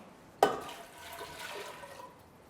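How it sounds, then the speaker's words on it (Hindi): Water poured into a pot of nicely soaked dried peas for Mumbai-style ragda chaat, starting with a sharp splash and then settling into a steady, fairly loud rush of liquid. "नाइसली सोक्ड है ये सूखे मटर। इसमें जाएगा जी पानी,"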